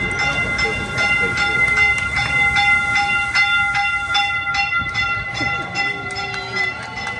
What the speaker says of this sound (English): we discovered the mystery of the train going the wrong direction